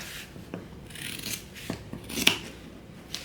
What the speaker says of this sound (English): I'm just gonna use scissors because it's easier